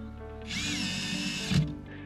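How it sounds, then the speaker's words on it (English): A power drill driving screws to fasten a pergola post into its metal post anchor, one whining burst of about a second that bogs slightly as the screw seats. "I put in 2 of the screws to attach the post to the post anchor."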